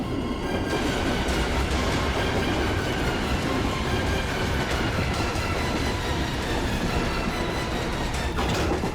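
A moving train rolls steadily along its rails, a loud continuous rumble with rhythmic wheel clatter and faint metallic squeals, with no voices over it.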